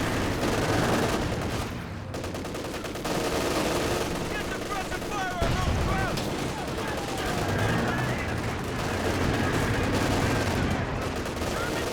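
Company of Heroes 2 battle with continuous machine gun fire and scattered explosions, a dense, loud wall of rapid gunshots running throughout, with a commentator speaking over it.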